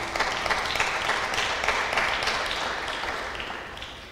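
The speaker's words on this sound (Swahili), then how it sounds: "tuwapigie makofi" A church congregation at a midweek prayer service applauding its pastors, a dense steady wash of clapping from many hands that slowly tapers off.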